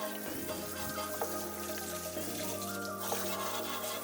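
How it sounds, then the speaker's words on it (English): Water sprays and splashes steadily onto a car wheel, rinsing it after brushing, as a continuous hissing wash with no pauses, moderately loud and close. "rinse well with water"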